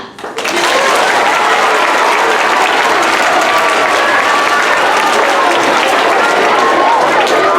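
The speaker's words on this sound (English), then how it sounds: "Now you can clap." Audience at an elementary school spelling bee bursts into sustained, loud applause that starts abruptly and fills the room evenly for several seconds, with a few voices mixed into the clapping.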